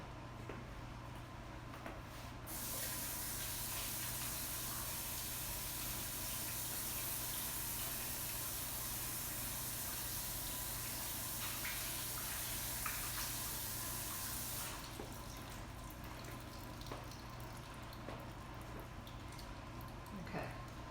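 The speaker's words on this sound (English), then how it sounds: "I'm going to go wash my hands and I'll come back and put the ketchup on" Tap water running steadily while hands are washed in a home kitchen, a constant close rush that starts and stops, with light splashing and no talk.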